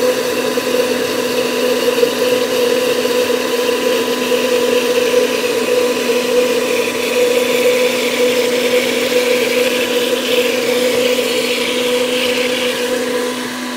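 An electric blender runs steadily as it purées strawberry and raspberry gazpacho while syrup is gradually added, a loud, even whir with a constant motor hum, alone throughout.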